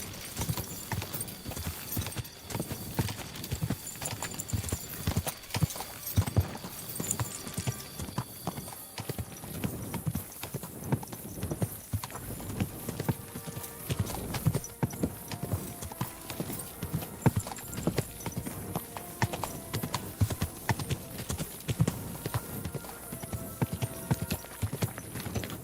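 Horse hooves clop in a brisk, continuous rhythm for a long stretch in the video game Kingdom Come: Deliverance II, steady and close, with a faint high tonal hum in the background.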